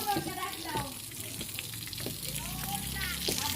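Water pours steadily from a running tap, a continuous splashing hiss with voices talking over it.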